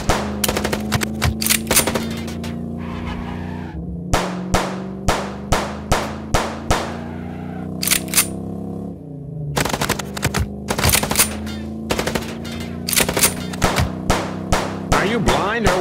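Rapid, loud bursts of automatic gunfire from a video game chase sequence, firing in long rattling runs with brief pauses, layered over a steady engine-like drone.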